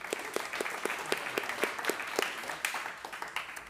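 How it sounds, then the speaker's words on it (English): A graduation ceremony audience claps in a steady, moderately distant round of applause, with individual sharp claps standing out at a fairly even rhythm and no speech over it. "We're going to clap after that."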